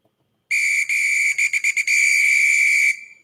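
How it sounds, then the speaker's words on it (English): A football whistle blows a sharp, shrill tone for about two and a half seconds, broken midway by a quick run of short staccato blasts before settling into one long steady note that cuts off. "And I have the football whistle."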